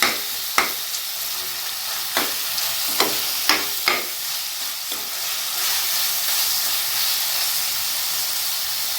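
Tomatoes sautéing in a pan for paneer biryani, a steady close sizzle and hiss with several sharp clinks of a spoon stirring against the pan in the first few seconds, no voices.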